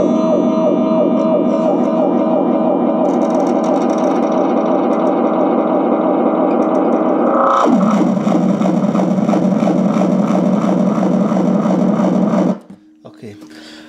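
Guitar run through two chained echo delay pedals, a Pearl and an Aria, producing a dense, swirling wash of repeating echoes that shifts pitch and texture midway, then cuts off abruptly near the end.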